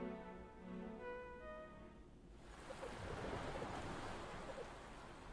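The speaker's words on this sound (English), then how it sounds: "from the silence, the crashing of waves" Ocean waves crash and surge in the video game Anodyne 2, a broad roaring wash that swells in after a quiet tonal passage of music and continues alone.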